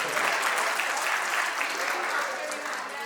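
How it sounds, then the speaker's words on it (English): A dense round of audience applause at an awards and felicitation event, loud and continuous from start to finish at an even level. "have a special round of applause for her"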